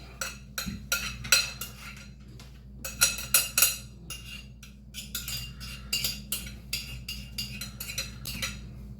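Leftover rice casserole is scooped and scraped into a baking dish, a close run of quick metallic clinks and scrapes of a utensil against the dish in an irregular rhythm, with no talk.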